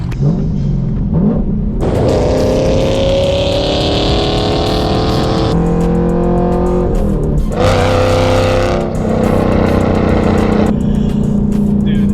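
A Chevrolet Camaro SS's exhaust rumbles loudly and continuously, with the engine revving up and settling back several times, close by.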